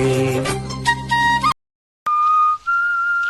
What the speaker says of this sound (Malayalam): ആരാ അവിടെ ചൂളം അടിക്കുന്നേ